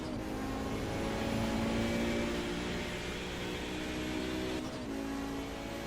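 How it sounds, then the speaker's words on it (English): Onboard sound of a 5-cylinder turbocharged race car engine in the iRacing sim at Road America, a loud sustained buzzing drone with steady harmonics and a brief dip near the end. "Just listen to this fantastic 5-cylinder engine."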